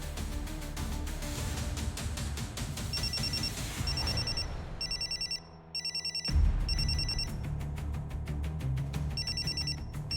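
A telephone rings repeatedly in a dramatic indoor scene, its electronic ringtone bursts sounding in regular pulses over a layer of tense background music.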